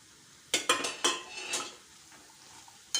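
Ground chickpeas being stirred into a vegetable dish in a pan, with a few distinct scraping, clattering strokes of a spoon against the pan, then a quieter stretch before another scrape at the end.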